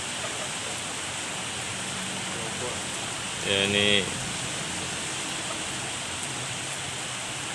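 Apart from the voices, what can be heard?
heavy rain falling at night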